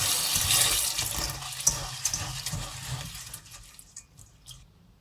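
Barley grains are washed under a running tap, a steady rushing splash of water that tapers off into scattered drips and trickles near the end.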